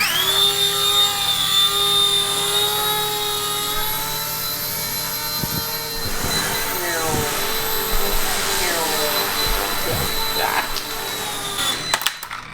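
A small remote-controlled helicopter whines loudly and steadily with high-pitched rotor buzz, its pitch shifting as it maneuvers nearby, with some bumps toward the end.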